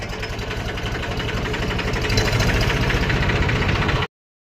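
A tractor engine runs at a village farm with a loud, steady, rapidly pulsing chug that holds an even pace for about four seconds and then cuts off abruptly.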